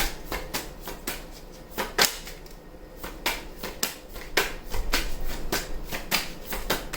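A tarot deck is shuffled in quick, crisp bursts of riffling card snaps that repeat close up at an uneven rhythm, with no voices.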